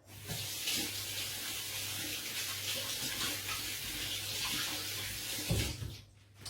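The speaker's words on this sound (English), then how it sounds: "Just going to wash my hands." Tap water runs steadily into a sink as hands are washed under the stream, a close, continuous splashing rush that cuts off abruptly near the end.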